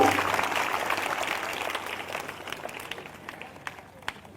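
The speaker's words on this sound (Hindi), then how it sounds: "जिनको समझ में आ गया वो जोरदार ताली बजाकर धन्यवाद दें परमेश्वर को।" Clapping from a congregation at a live prayer service, a broad wash of many hands that fades gradually over a few seconds, with occasional louder claps standing out near the end.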